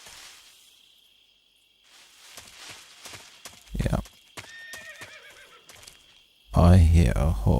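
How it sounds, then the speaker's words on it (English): Video game sounds from Metal Gear Solid 3: Snake Eater on PS2: hooves clip-clop in an irregular walking rhythm, followed by a horse neighing loudly near the end; a brief spoken word is heard. "I hear a horse."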